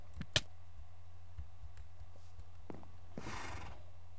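A Minecraft horse gives a brief neigh, followed by a few soft clip-clop hoofsteps, faint and sparse against a quiet game background with no talking.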